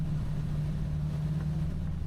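The diesel engine of a Whitehaven 6000 Flybridge motor yacht at sea drones steadily up close around 2,100 rpm, its deep, even hum holding constant with no noticeable rise in revs.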